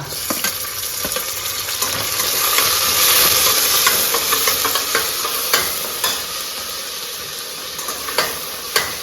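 Garlic, onion and a tomato frying loudly in oil tempered with mustard seeds, a steady hissing sizzle that swells in the middle, broken by occasional stirring clicks of a spoon against the pan.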